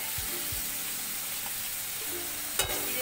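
Dried chili paste and ginger paste sizzle in a hot pan for prawn curry, a steady broadband frying hiss with a few soft low knocks near the start and a sharper clatter near the end.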